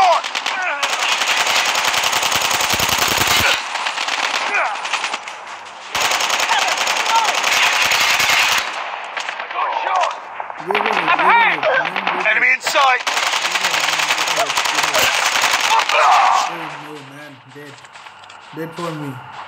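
Rapid automatic gunfire from a hostile sentry gun in the Call of Duty Mobile video game, loud, sustained bursts broken by short pauses, with voices talking over the later part.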